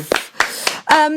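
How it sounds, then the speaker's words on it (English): A studio audience claps for Gaby Roslin in a few loud, close, separate bursts, each a short sharp clap spaced irregularly over about a second. "Let's have a lovely round of applause for Gaby Roslin."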